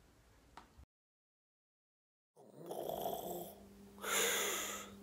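A man snoring close by, with two loud drawn-out snores, each a rasping breath in, following a short burst of faint noise and a stretch of silence.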